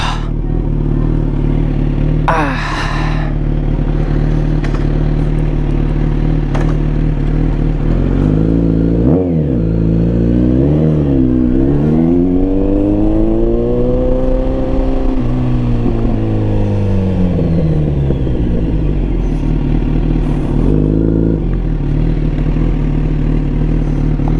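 A big bike motorcycle rides along a road with a loud, close engine drone throughout, rising and falling in smooth revving sweeps, broken by a brief clatter early on.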